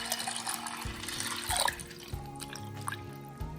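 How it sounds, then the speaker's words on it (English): Water pours and splashes over soaking chickpeas in a pressure cooker, with a few drips and a rising hollow tone as it fills, close by with no talking. "I'm just going to cover it up with water and let it soak overnight."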